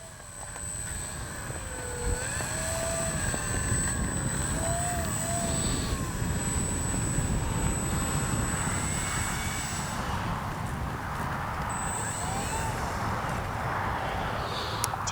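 An RC X-Fly Spitfire warbird model airplane with suspension gear takes off with flaps set. Its engine is a steady, moderately distant drone with a rising and falling whine that carries on for the whole stretch.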